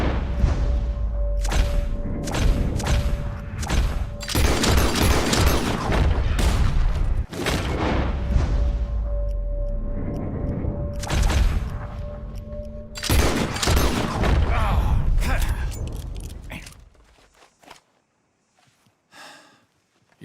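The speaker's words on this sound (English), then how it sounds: "As soon as you see them, start shooting." Gunfire in a shooting contest in Red Dead Redemption 2, with loud, sharp shots repeated in bursts over game ambience, fading to near silence at the end.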